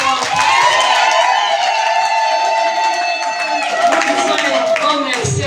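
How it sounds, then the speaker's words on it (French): An audience at a convent gathering welcoming visiting superiors claps loudly and continuously, with voices and cheers mixed into the applause throughout. "applaudir très, très, très fort"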